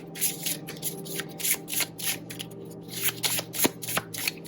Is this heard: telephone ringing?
no